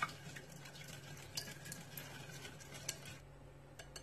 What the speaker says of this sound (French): on continue de mélanger